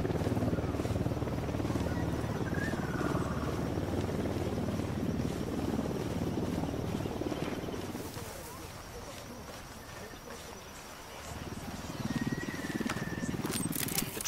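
A helicopter in the video game Ghost Recon Wildlands keeps up a dense, continuous rotor rumble that dips briefly mid-way and then swells back, with faint insect-like ambience above and no talk.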